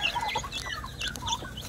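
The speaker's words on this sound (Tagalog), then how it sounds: "Ito mga sisiyo na manok." Chicks and hens cluck and peep close by in short, repeated bursts, a busy little chorus of farmyard chicken calls.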